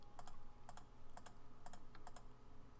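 A computer mouse clicks over and over at close range while anchor points are added with a lasso tool. Crisp paired clicks repeat at a steady pace over a faint background hum.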